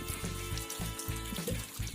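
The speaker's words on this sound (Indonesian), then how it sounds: "Hidupkan keran air." A water tap runs steadily into a sink during handwashing, a continuous close splashing rush with slight rhythmic changes as hands move under the stream.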